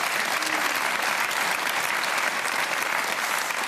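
Studio audience at a televised cooking competition applauding, dense steady clapping that fills the whole stretch without a break, with no talk over it.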